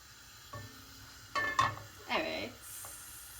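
Oil heating in a pan on the stove begins to sizzle in a few short bursts, fairly close and moderate, with quiet gaps between them.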